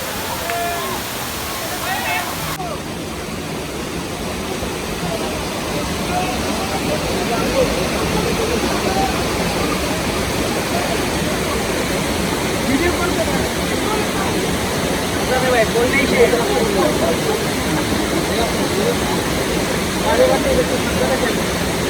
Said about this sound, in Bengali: আমরা পেয়ে যাই আমাদের কাঙ্ক্ষিত সেই মায়াবী ঝর্ণা